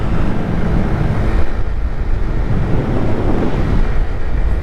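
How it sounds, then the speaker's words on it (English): Loud, constant high wind buffeting a microphone while riding a 49cc scooter, a dense low roar with gusty fluctuations and no voices. "with this high wind right now, got a lot of wind."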